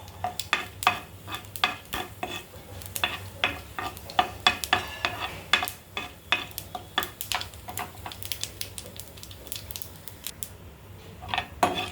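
Lentils, mustard seeds and cumin frying in oil, a soft sizzle under quick irregular spatula clicks and scrapes against the pan, close and fairly busy throughout.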